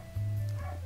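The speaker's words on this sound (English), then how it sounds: "Sorry, that's my dog. He's just probably sees someone outside." A pet dog barks indoors, reacting to someone seen outside: one loud, close bark-like yelp with a sustained tone, clear and alone.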